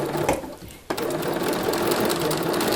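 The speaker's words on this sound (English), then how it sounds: "So I'm just going to stitch slowly around the circle." A sewing machine stitches steadily around a fabric circle for a cathedral window ornament, its continuous motor whir pausing briefly before resuming at an even pace, close and alone.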